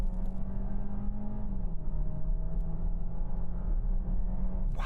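Close, loud engine drone of a VW Tyron SUV launching hard from a standstill with launch control, a steady sustained roar holding one pitch before dropping slightly and continuing, with no talking over it.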